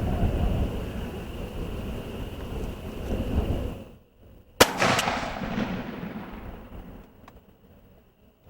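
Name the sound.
shotgun fired at a plywood target 60 yards away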